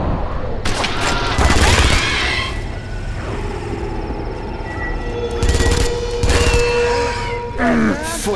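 Rapid bursts of smart gun fire in Aliens vs Predator, loud and close, several separate fusillades separated by short gaps, mixed with screeches, beeps and other combat effects.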